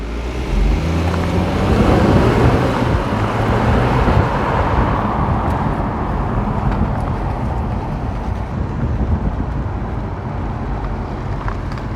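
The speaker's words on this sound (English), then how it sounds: "I think it sounds really nice, especially for a 2-liter diesel." A BMW X4 with a 2-liter diesel engine launches hard, giving a loud, rising engine roar that fades as the car pulls away. Heavy wind rumble sits under the sound.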